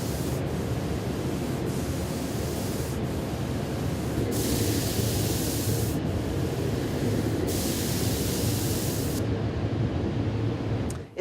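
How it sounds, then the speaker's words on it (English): Tacky printing ink being rolled back and forth by hand in a printmaking studio, a continuous sticky hiss that swells and fades in a regular rhythm of passes, close and steady, with no talking. "the sound of the ink, the tack, when she's rolling it back and forth"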